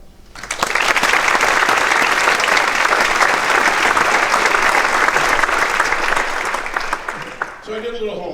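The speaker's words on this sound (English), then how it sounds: "I really think they all deserve a round of applause" Loud, dense applause from a council chamber audience in tribute to a retiring council member. It swells quickly, holds steady for about seven seconds and drops away at the end as a voice begins.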